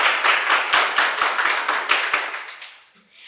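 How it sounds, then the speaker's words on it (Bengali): An audience at a quiz competition in a medical college claps together in a quick, regular rhythm of sharp nearby hand claps, which fade out after about three seconds. "ম্যাডামের জন্য একটা জোরে হাততালি হয়ে যাক।"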